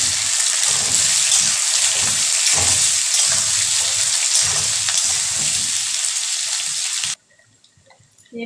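Cut potatoes fry in hot oil with spices, a loud steady sizzle with stirring scrapes running throughout before cutting off abruptly near the end.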